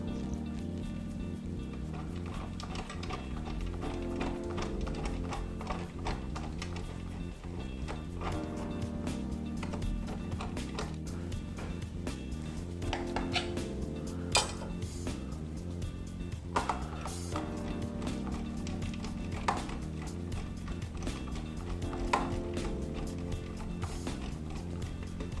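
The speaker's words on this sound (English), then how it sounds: "I'd like to use the coarse side of the grater." Parmesan cheese rubbed against the coarse side of a box grater, a steady rasping scrape that repeats in quick rhythmic strokes for the whole stretch, close and moderately loud.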